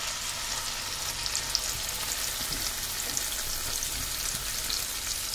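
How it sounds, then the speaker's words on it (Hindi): Grated ginger fries in a tomato and onion gravy in a pan for a soya chaap curry, giving a steady, close, dense sizzle with faint stirring scrapes and no voices. "इसको ऐसे हल्का सा भूनेंगे"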